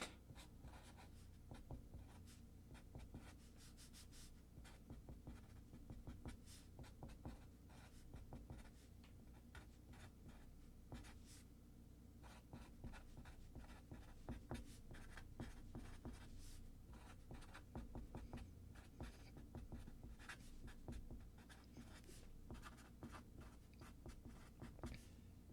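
Pen scratching steadily across a writing surface in a quiet lecture room, a long run of short strokes with brief pauses, close and fairly faint, no talking.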